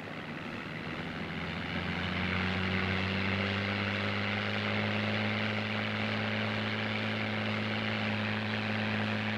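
P-51 Mustang engine at takeoff power, a steady loud droning roar with a strong low propeller hum that holds constant throughout, heard from close by with no speech.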